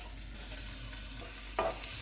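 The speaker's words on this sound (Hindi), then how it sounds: "ऑयल गर्म हो गया, इसमें चॉप किया हुआ लहसुन डालेंगे" Chopped garlic sizzles in hot oil, a steady crackling fry close by, with a couple of sharper bursts of spattering near the end.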